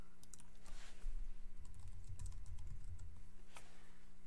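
Keys clatter on a computer keyboard in a quick, uneven run of close, crisp taps with short pauses, over a low steady hum and with no talking.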